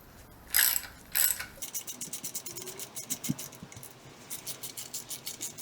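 Sump bolts on a Classic Mini A-Series engine being unscrewed, starting with two harsh scraping bursts and moving into a quick rhythmic ratcheting that runs on steadily, near and without speech.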